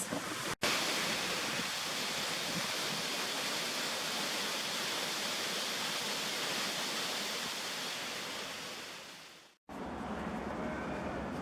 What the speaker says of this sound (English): listening to the waterfalls